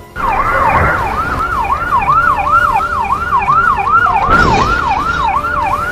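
A wailing police siren rises and falls in a steady, repeating cycle, loud and close, with passing vehicle noise and a couple of brief bursts underneath.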